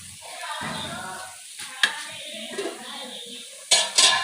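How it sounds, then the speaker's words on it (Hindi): Semolina being stirred into hot ghee with green cardamom in a pot, a steady scraping and soft sizzling with a few sharper clinks of the spoon against the metal near the end. "दो कप सूजी डालेंगे और अच्छी तरह पहले मिक्स करेंगे।"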